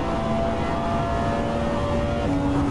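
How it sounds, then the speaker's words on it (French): A loud Porsche 911 GT engine drones steadily, its tone stepping to a new pitch near the end as a gear changes. "ce changement de tonalité quand on change de rapport"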